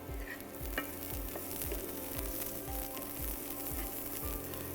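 Onions fry gently over a low flame in a pan, a soft continuous sizzle with a faint recurring rhythmic pattern, quiet and steady with no talking.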